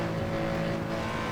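A RUF Yellowbird at full throttle in Assetto Corsa, flat out on a bumpy straight at the Nordschleife: the engine holds a loud, steady, high-revving drone throughout, with no speech over it.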